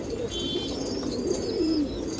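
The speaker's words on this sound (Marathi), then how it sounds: "गावठी कबूतर आहे. हा एक बसलेला कबूतर आहे" Blue village pigeons sitting in a Nashik loft coo in soft, repeated low phrases over a constant murmur of nearby birds, with no one speaking.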